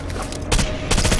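Rainbow Six Vegas 2 gunfire cracks out in two quick loud bursts, close and sharp, over a busy game background.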